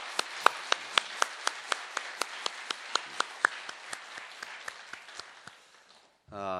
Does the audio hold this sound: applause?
yes